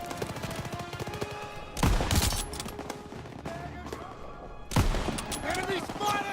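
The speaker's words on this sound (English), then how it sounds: "I just love myself a good sniper rifle." Call of Duty WW2 sniper rifle fire on a World War II battlefield: two loud, sharp rifle cracks about three seconds apart, ringing over constant background gunfire and combat noise, with voices talking throughout.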